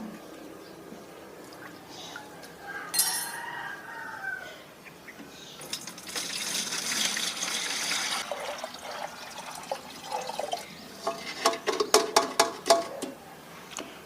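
Rice-washing water poured from a watering can into a compost bin gives a soft gurgling trickle that builds into a fuller splashing pour, then breaks into drips and light clanks, fairly quiet and close.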